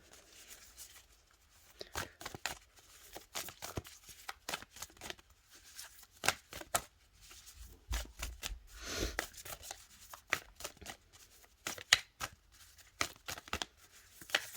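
Tarot-style cards are shuffled and pulled for a reading, with quiet, close riffles, slides and taps in uneven bursts and no talk over them.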